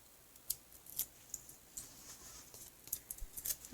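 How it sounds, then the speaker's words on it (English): Backing paper being peeled off a small card piece, heard as quiet, scattered crackles and ticks in a hushed room. "Now we'll pull the paper off."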